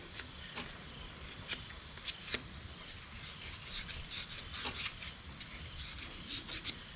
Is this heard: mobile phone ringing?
no